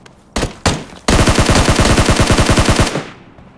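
Gunfire in the mobile battle royale game PUBG Mobile: two single loud shots, then a sustained rapid automatic burst of evenly spaced rounds lasting about two seconds, close and forceful, ending with a fading tail.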